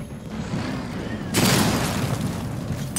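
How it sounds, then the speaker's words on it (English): Missile barrage explosions in Batman: Arkham Knight, a loud booming burst that starts partway through and rolls on over a steady low rumble of background noise. "Charge the missile barrage to level 2 to destroy up to 4 targets at once."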